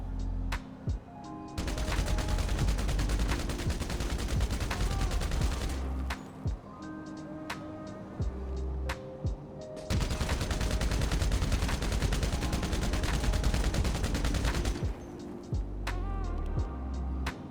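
Bullet weapons fire in GTA 5 in long rapid automatic bursts, dense crackling volleys separated by brief pauses and a few single shots, loud and close with no talking.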